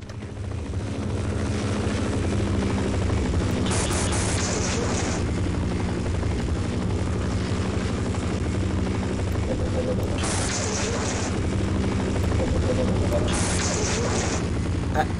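Half-Life helicopter thudding loudly and steadily throughout, its rotor drone joined by bursts of gunfire or explosions in the game on hard difficulty.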